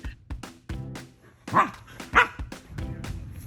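Dogs playing at a dog park give a series of short, sharp barks and yips at close range, spaced irregularly with brief pauses between them.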